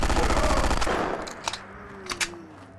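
A modded weapon in Fallout 4 fires a rapid automatic burst, loud and close, for under a second. The shots then stop, leaving a fading tail with a few faint clicks and thuds.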